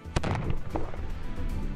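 Twenty grams of black powder bursts inside a container wrapped in fiber-reinforced tape, one sharp loud bang followed by a rumbling, echoing decay that fades over about a second and a half.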